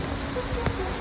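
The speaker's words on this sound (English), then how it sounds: "Thank God, I love the rain." Rain falls in a brief, even hiss with light patter on surfaces, fairly quiet and continuous over about a second.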